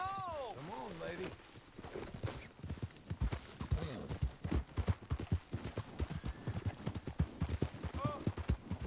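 Horse hooves clip-clop in a PS4 video game, a quick run of rhythmic hoofbeats mixed with a whinny and game sounds, with a person talking over them throughout.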